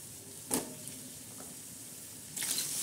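Onion hits hot spices in a wok with a close sizzling hiss, marked by two sharp bursts of frying as it is added and stirred.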